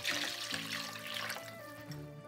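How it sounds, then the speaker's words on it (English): Homemade vegan beef stock poured into a stew pot, a steady close splashing and gurgling of liquid that runs without a break and slowly settles. "So we're going to go ahead and pour that in there."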